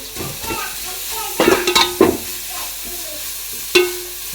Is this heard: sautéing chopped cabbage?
yes